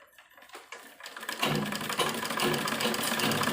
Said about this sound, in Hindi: इसको भी एक पैर की इस तरह से हम इसकी सिलाई लगाएंगे